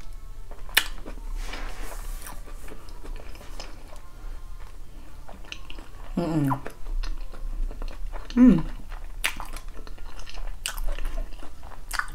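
Someone close to the mic chews cooked snail in a quiet room, with soft, scattered wet bites and crunches and a couple of brief murmured vocal sounds between them.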